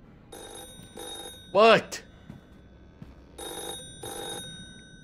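A lantern in a Roblox horror game rings like an old telephone bell, two ring bursts, a pause, then two more, with a voice talking between the rings.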